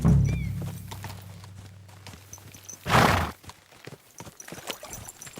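A horse in Kingdom Come: Deliverance II walks with steady clip-clopping hooves near at hand, then lets out a brief loud whinny midway before the hoof steps continue more faintly.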